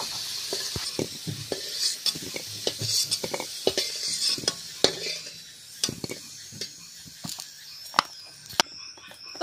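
Potatoes that have been fried until reddish-brown are lifted out of the pan in a village-style home kitchen, with repeated scraping and clinking of a utensil against the pan over a soft, low sizzle.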